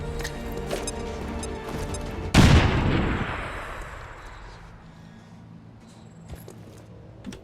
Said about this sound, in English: we can get down and we can throw a frag grenade